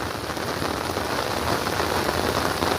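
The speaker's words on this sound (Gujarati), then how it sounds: "ફાઇનલી આવી ગયો છે વરસાદ" Heavy rain pours down steadily, a dense constant roar of drops hitting surfaces nearby, with no voices.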